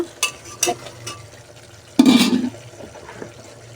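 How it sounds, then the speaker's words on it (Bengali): Potatoes dropped into a pot of braised beef curry: a few light clinks, then a short sizzling splash and stirring burst, fairly close and quiet otherwise, with no talking. "আমি এর ভিতরে এখন আলু দিয়ে দেবো"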